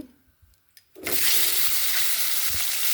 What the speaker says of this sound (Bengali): এবার ফুলকপিটা ভেজে নিচ্ছি